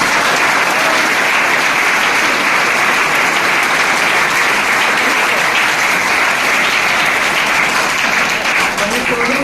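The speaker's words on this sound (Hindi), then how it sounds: "ये जो लोग राजगीर गए थे उन लोगों की जबरदस्त ताली होनी चाहिए।" Loud, sustained applause from a crowd at a direct-selling leadership meeting in Jamui, Bihar, steady clapping filling the room for the whole stretch.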